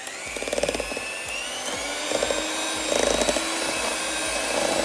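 An electric mixer whirs steadily as it blends butter and maple syrup in a bowl, with a continuous motor drone and occasional rattling as the beaters knock against the sides.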